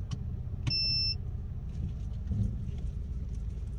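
A Honda Civic driving, its low steady engine and road rumble continuous and close, with a brief high electronic beep early on and no talk.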